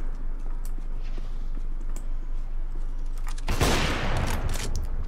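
A loud burst of gunfire from the video game CS:GO erupts suddenly after several seconds of a low steady drone, then trails off into faint rattling.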